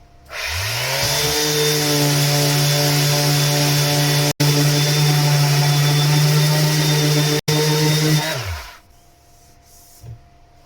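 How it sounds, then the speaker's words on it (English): A power sander smooths out blemishes on a surface, running as a loud, steady motor whine for about eight seconds with two split-second dropouts. It then winds down and leaves quiet handling noises. "Sand that out a little bit more first."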